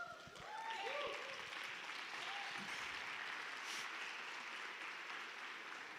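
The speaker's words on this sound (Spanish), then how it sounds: "Dele una ovación al Cordero Santo" A church congregation gives an ovation during an anniversary service, a faint, steady wash of many hands clapping that sustains throughout, with a few brief voices near the start.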